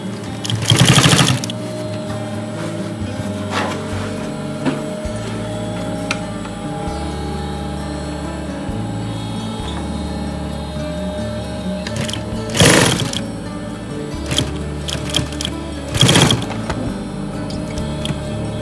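A sewing machine restitches the seams of a car soft top, running in a steady close mechanical whir, with several short louder bursts as the fabric is fed through.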